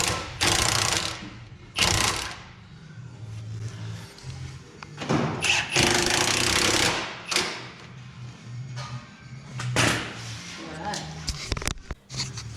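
Bolts being tightened on Land Rover Defender suspension: a series of close, sharp ratcheting bursts and metallic clunks, separated by short pauses, with quieter handling noise between.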